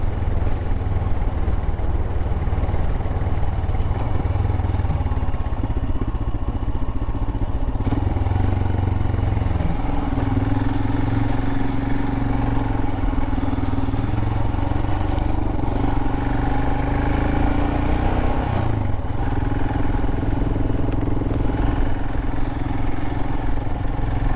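Royal Enfield Himalayan motorcycle riding over a snowy Hardknott pass in England, its single-cylinder engine droning steadily and loud throughout with wind rush and slight clatter, no talking.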